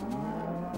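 A Minecraft cow gives one short, close, steady moo, low and droning, with no talk over it.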